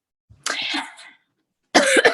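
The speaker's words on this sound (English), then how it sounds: "Now I'm coughing." Two short coughs, close and clear, separated by a brief silence.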